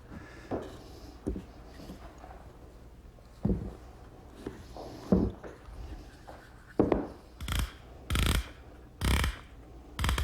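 Woodworking clamps being tightened on a wooden table base: a quiet series of scattered ratcheting clicks and metallic clunks, with several sharper, louder bursts near the end.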